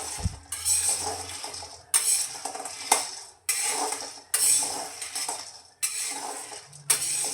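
Peanuts roasting in a pan, stirred with a ladle for a spicy peanut snack: repeated scraping and rattling strokes, roughly one every second, close and clear, each sweep of the ladle sending dry nuts clattering against the metal.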